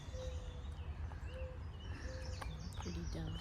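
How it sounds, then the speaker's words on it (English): Doves give soft, low cooing notes repeating at intervals among a few higher chirps, over a steady background hum, in Mount Jackson, Virginia. "listen to the doves singing"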